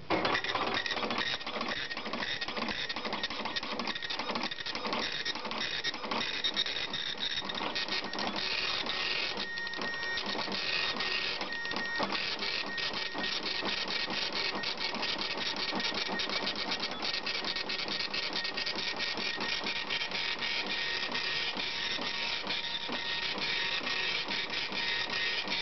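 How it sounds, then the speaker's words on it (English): An Epson FX-880 dot matrix printer runs a Windows XP test page, a steady loud mechanical buzz of rapid print-head strikes with rhythmic carriage passes and line feeds, continuous and up close with no talking. "Windows XP printer test page."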